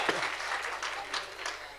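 Short burst of audience clapping at a Hindi comic poetry gathering, moderately close and steady, with a voice faintly underneath.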